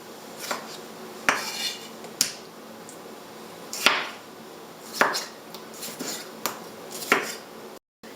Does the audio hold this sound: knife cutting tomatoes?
yes